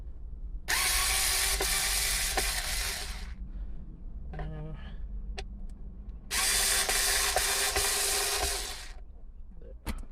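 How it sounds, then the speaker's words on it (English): A power driver unscrewing the cupholder mounting screws inside a Mitsubishi Montero, two loud buzzing whirring bursts of several seconds each with a short clatter between, close up. "So you just unscrew these here."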